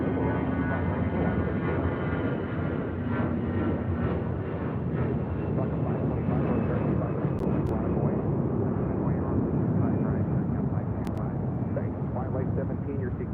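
A Delta Airlines Airbus A319 takes off at LAX with a loud, continuous jet engine roar, steady throughout and close, with voices talking over it.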